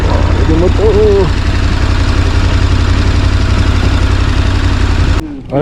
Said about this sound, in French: Oh, il y a des motos.